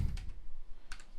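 A computer keyboard is typed on in two quick, faint clusters of light key clicks in a quiet room, with no talk.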